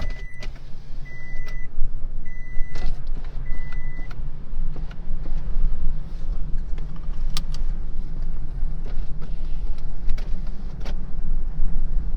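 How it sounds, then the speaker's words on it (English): A car's power window motor whirs as the window is lowered, a steady electric hum in short bursts over the low rumble of the car and road noise. "Let me take my window down a little bit, see if you can hear it better."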